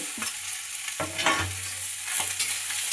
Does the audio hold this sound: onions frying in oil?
yes